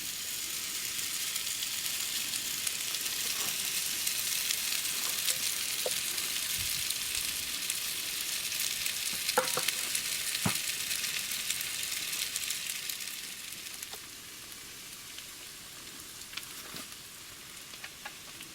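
Food sizzles steadily in a quickly heated frying pan inside a fishing tent on a winter burbot trip, a constant bright crackling hiss with occasional louder pops, fading slightly toward the end.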